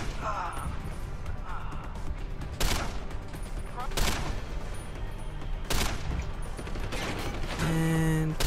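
Gunfire in the video game Deus Ex: Human Revolution comes as several sharp, loud shots spaced about a second apart, with a mechanical click and whir near the end and a voice talking underneath.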